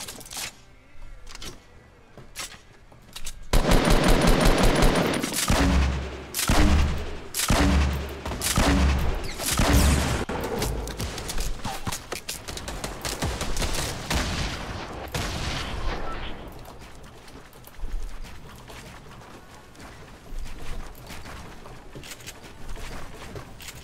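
Gunfire in the Fortnite battle royale video game, including sniper shots: sparse cracks at first, then a loud cluster of heavy repeated shots and booms, trailing off into scattered quieter shots and rumble.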